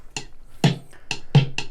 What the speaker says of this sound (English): this is actually a drum loop that has kind of come out of that process